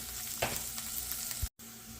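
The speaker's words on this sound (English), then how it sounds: "our onions are sauteing" Onions sauteing in a pan after hamburger for loco moco, a quiet continuous sizzle with a faint stir or two, close and low in level.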